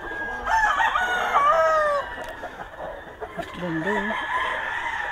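A Super Sweater gamecock rooster, class AB, crows loudly and close for about a second and a half, then gives a few short clucks a moment later, while a person speaks briefly nearby.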